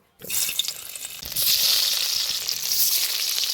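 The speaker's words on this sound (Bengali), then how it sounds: "পিস পিস করে কেটে রাখা পনিরটা একে একে করে ভেজে নিব" Steady sizzling of paneer pieces dropped into hot oil, a hissing crackle that starts abruptly and swells louder after a moment, continuing without pause.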